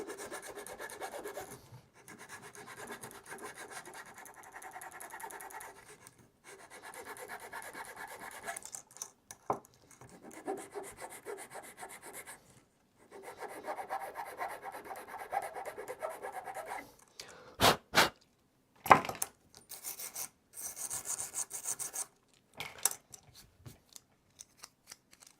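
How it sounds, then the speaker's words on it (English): Sandpaper rasping on a 3D-printed Voron V2.4r2 printer panel, with quiet repeated rubbing strokes in several runs and a few louder knocks and scrapes near the end. "Sand it down."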